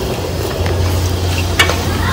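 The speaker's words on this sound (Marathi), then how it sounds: "सगळं मिक्स करून घेऊ मस्त प्रकारे." Maggi noodles with masala stirred in a hot pan, giving a steady close sizzle of frying with soft scraping from the stirring and one brief clack of the utensil against the pan.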